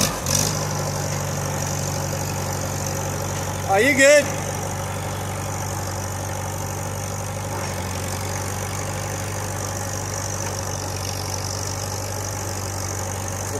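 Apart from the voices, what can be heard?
farm tractor engine idling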